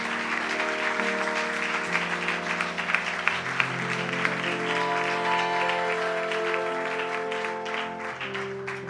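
A church congregation claps steadily for the full stretch, a dense, continuous patter of many hands over sustained music.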